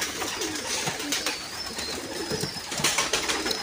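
Purebred pigeons coo softly in repeated low, throaty calls over a steady background hiss, with several birds overlapping at moderate distance.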